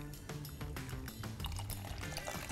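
Water poured into a lab beaker for a sourdough acidity test, a quiet continuous pouring and splashing trickle with faint bubbling, close by and without speech.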